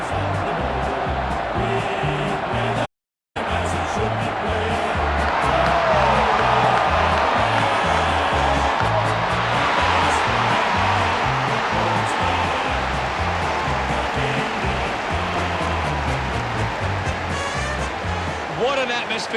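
A large crowd roars and cheers at the AFL grand final with Geelong taking the field, a loud, dense and continuous wash of sound with a brief dropout early on.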